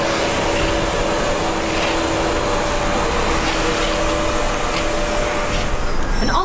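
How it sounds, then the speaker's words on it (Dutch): An industrial vacuum cleaner runs steadily, used for cleaning quartz dust at a work site, giving a loud, constant whooshing roar with a faint whine that holds unbroken throughout. "Regelmatig schoongemaakt wordt met de juiste middelen, zoals deze stofzuiger."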